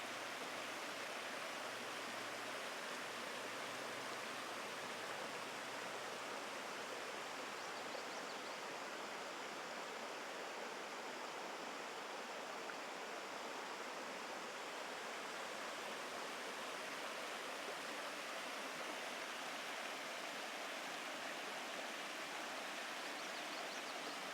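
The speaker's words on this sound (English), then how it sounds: "I'm going to be quiet for a sec so you guys can hear some of the water" Steady rushing water flows continuously, a soft, even hiss of a stream with no voices, holding the same gentle level throughout.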